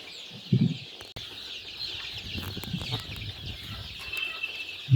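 Continuous high peeping of month-old chicks close by in a coop, with a few low clucks from a hen near the start and end.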